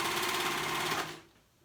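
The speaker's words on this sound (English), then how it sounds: "we are sewing all these quarter points" A sewing machine stitches the quarter points of a cold shoulder romper or dress, a close, steady rapid whirring that runs continuously and then stops abruptly.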